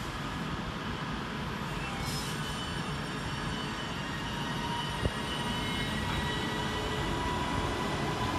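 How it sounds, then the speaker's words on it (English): Northern class 331 electric multiple unit departing a station, a steady broadband rumble of running gear and traction hum filling the scene at a moderate distance, with a brief click partway through. "Whilst going off in the opposite direction is 331-030, working the 1513 Northern service from Crewe to Manchester Piccadilly via Stockport."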